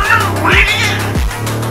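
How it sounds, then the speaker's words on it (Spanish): Three furious cats yowl and caterwaul at close range, with loud rising and falling wails in quick succession as they square off to fight. "Tres michis bastante furiosos y ofendidos"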